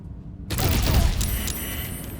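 A loud explosion bursts in Baldur's Gate 3, a sudden booming blast with crackling debris that rumbles on and slowly fades.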